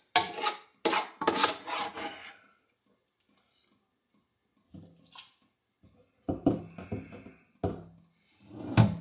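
Blackberry mash for a three-gallon batch of homemade wine is scraped out of a tilted container, giving several rough rasping scrapes in bursts separated by quiet gaps, close and fairly loud.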